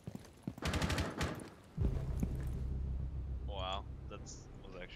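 Bursts of rapid gunfire from a tactical shooter match on the Coastline map, with loud sustained firing and rumble, while players talk over the action.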